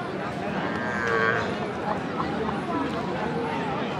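Cattle at the Baishmouja livestock market in Brahmanbaria, gathered for Qurbani sale, give a clear moo partway through over a steady crowd murmur and voices.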